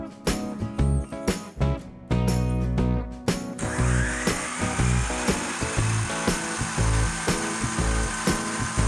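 A power saw whines and buzzes through MDF board in short bursts, then a steady cut, close and loud with rhythmic pulses.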